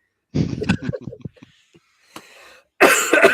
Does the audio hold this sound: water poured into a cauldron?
no